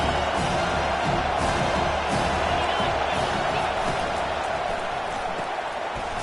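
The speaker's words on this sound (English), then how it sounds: "Decibels rising as the crowd gets behind this defense on third down." A stadium crowd cheers and roars in NCAA College Football 25 as a third-down defensive stand builds, a dense, steady wall of noise that holds loud from start to finish.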